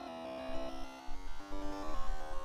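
Gaster's phone call noise in the Deltarune Chapter 1 video game: a steady, droning electronic tone with stacked, shifting pitches and a buzzing, static-like edge, moderately loud throughout and alone.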